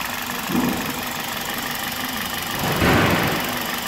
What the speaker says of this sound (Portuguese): O motor tá ficando redondinho, cara.